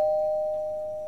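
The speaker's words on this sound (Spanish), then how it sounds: "Sheila y Berto se miran con la extrañeza de alguien que oye el timbre cuando no espera a nadie." A single bright electronic doorbell chime rings once at the start and holds a long, clear tone that slowly fades over about a second, with no talking.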